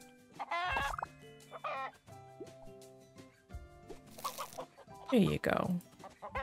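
Chickens cluck repeatedly in the farming video game Big Farm Story, in short bursts at a clear, close level. Game tones and a brief spoken phrase are mixed between the clucks.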